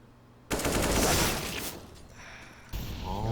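AK rifle fire in a competitive video game match: a loud, close burst of rapid shots that cuts in abruptly, tails off, then another burst starts near the end.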